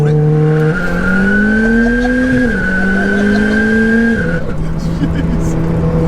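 A 713 bhp 4WD-swapped VW GTI launching from a roll in second gear, the engine droning loudly and rising steadily in pitch with brief dips at shifts, continuous and close throughout.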